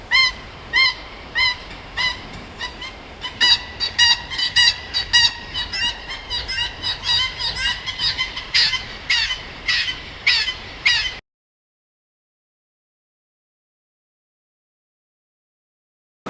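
Cartoonish birds gathered at a beach's water edge squawk and honk in a rapid, overlapping flurry of loud calls for about eleven seconds, then cut to silence.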